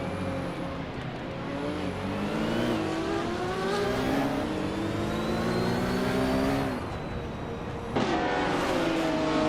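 Vintage 1971 Ferrari 512M race car engines in a racing game at the start at Yas Marina, a loud sustained roar with rising and falling pitch sweeps as gears change, continuous and close.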